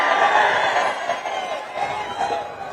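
A large crowd at a political rally for Chief Minister Chandrababu Naidu roars and cheers in a steady, loud, dense wash of voices that lasts the whole moment.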